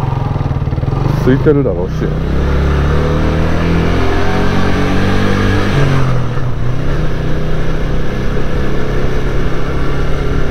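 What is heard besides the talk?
Yamaha YB125SP motorcycle engine while riding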